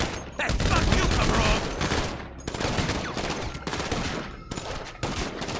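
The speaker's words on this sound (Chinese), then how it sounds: "狙击枪" Sniper rifle fire in GTA 5 with a zombie mod, a loud, dense barrage of rapid shots repeating across the whole stretch with brief gaps between bursts.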